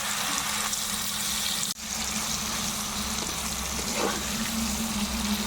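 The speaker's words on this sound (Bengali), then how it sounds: "এখন আমি পনিরগুলো ছেড়ে দিচ্ছি" Paneer pieces frying in hot oil in a wok give a steady, dense sizzling hiss that runs throughout, briefly dipping once before carrying on at an even level.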